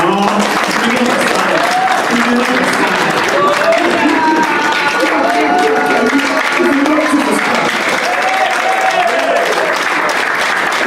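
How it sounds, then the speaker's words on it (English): Applause and clapping from a church congregation, steady and loud throughout, with a voice speaking over it. "Clap"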